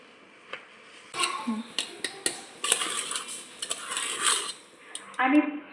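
Dal mixed with turmeric in a metal pot for puran, with a spoon clinking and scraping against the pot in irregular bursts, close and moderately loud.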